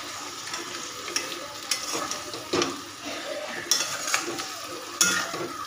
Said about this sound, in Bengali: এবার একটু নেড়ে চেড়ে নেব, ভালো করে মশলাটার সাথে মিশিয়ে নেব।